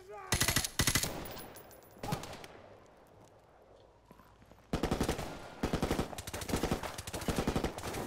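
Gunfire fills a Call of Duty: Modern Warfare Remastered firefight, with loud rapid bursts of automatic fire that pause and then return in long sustained volleys.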